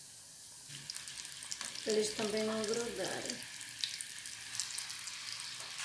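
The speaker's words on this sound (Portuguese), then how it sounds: "agora eu vou começar a fritar. Não vou botar muito, que minha panela é pequena." Potato balls fry in a small pan with a soft, continuous sizzle and a faint hiss of hot oil, while someone speaks briefly over the cooking.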